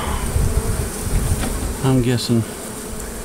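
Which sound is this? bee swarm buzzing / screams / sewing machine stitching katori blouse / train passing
bee swarm buzzing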